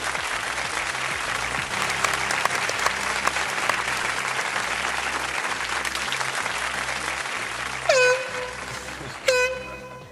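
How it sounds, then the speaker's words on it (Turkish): Sustained applause from a studio audience on a Turkish TV game show fills the room steadily, ending with two short horn blasts over the clapping. "Haydi arkadaşlar onlara kocaman bir alkış."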